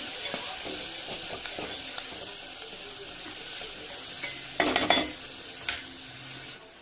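Pasta sautés in a pan with a soft, steady sizzle, broken by scattered scraping stirs and a few sharper utensil clinks near the end. The whole scene stays fairly quiet and close.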